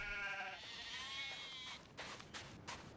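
Sheep bleating in the Clive Barker's Undying video game, a few wavering, tonal bleats close up in the first half, followed by scattered rustling game noises.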